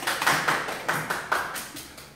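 Rapid, evenly paced hand claps, about ten in two seconds, near and fairly loud with no voices, welcoming a new actor during a live online broadcast.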